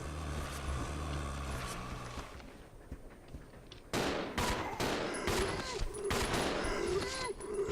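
Gunfire in Resident Evil 0: after a stretch of rumbling background, a string of sharp, loud shots rings out in an irregular rhythm, with voices audible beneath.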